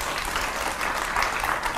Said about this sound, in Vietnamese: Hỏi cho một tràng pháo tay để khích lệ đi.